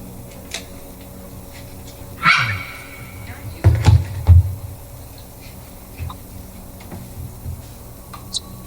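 A few dogs bark in short bursts, one sharp yip followed by a pair of louder barks a second later, fairly close over a quiet room background.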